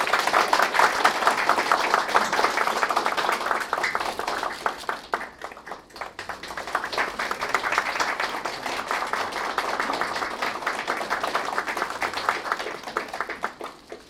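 Sustained applause from an audience at a university president's inauguration ceremony, steady dense clapping that dips briefly midway then swells again and carries on to the end.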